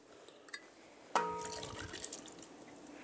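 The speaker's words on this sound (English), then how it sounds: "I'm going to drain just a little bit of water off of this corn." Liquid from canned corn poured off into a sink, a soft clink followed by a steady trickle and drips of water, quiet and close with no speech.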